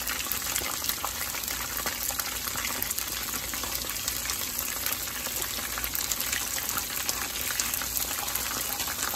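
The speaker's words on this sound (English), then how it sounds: "My sauce is bubbling over there in the corner." Sauce for a homemade Chinese dish bubbling in a pot, a steady low fizzing and popping hiss that continues evenly throughout at a soft, close level, with no voices.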